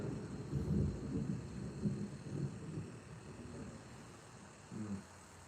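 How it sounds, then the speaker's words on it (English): Distant thunder rumbles in low, rolling swells, faint and uneven, fading toward the end before a brief final low murmur. "You hear that thunder?"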